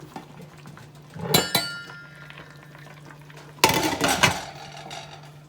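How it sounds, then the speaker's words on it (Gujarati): Kokum being stirred into simmering Gujarati dhokli in a pot, then a lid set on top: two bursts of metallic scraping and clattering over a quiet, steady background hum, with no voices. "અને સરસ હલાવીને મિક્સ કરીશું અને ઢાંકણું ઢાંકી દઈશું"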